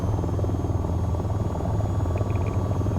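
Helicopter in the VTOL VR flight game, a steady, loud rotor drone with a throbbing low thump that continues without a break, with a few faint high beeps near the end.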